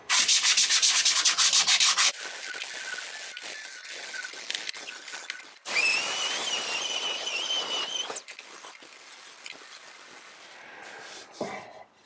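Steady back-and-forth rubbing of a 120-grit sanding foam pad on the wooden body of a Strat-style guitar build, loud and close, changing pitch in bursts with short pauses between passes, and no talking.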